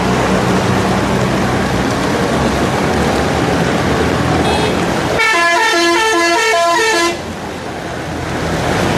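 Heavy rain pours steadily on a waterlogged street in Hathazari, Chittagong, a loud constant hiss, while a bus or car horn blares in a sustained, pulsing honk for about two seconds near the middle.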